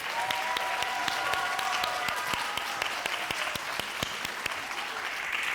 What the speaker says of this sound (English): we can give them another round of applause.